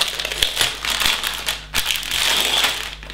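Plastic bags of building set pieces crinkle and crackle loudly up close, handled in irregular bursts with sharp crunches, and no speech.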